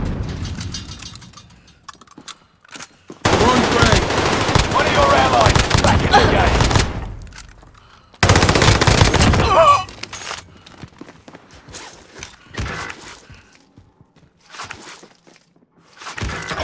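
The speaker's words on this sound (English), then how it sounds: "Shots pinned me." Heavy machine gun fire from the 2019 game Call of Duty Modern Warfare, arriving in two loud sustained bursts separated by quieter stretches of scattered shots and thuds, with faint voices in between.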